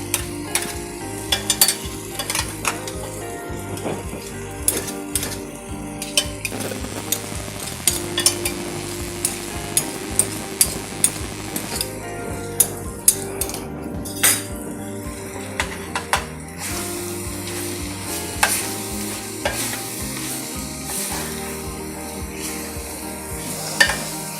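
Chicken and yellow brown rice sautéing Puerto Rican style, with a steady sizzle throughout and frequent sharp clicks and scrapes as a spoon stirs against the pot, close and fairly loud.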